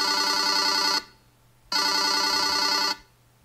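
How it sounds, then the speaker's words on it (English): A phone rings after a Chromebook's locate-phone feature triggers it, sounding two long electronic ringtone bursts with a short gap between them, loud and close with no talking. "that would make my phone ring"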